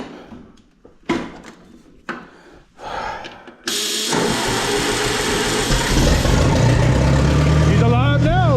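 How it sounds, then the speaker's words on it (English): An Oliver 550 tractor engine idles while warming up, a loud, steady, close rumble that starts abruptly after a few seconds of scattered clunks and knocks and holds evenly to the end. "I want to let the motor warm up a little bit"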